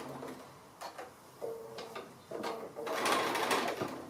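A sewing machine runs a straight stitch along an appliqué on a small snap-closure Christmas stocking, its motor whirring in short bursts with brief pauses before a longer, louder run near the end.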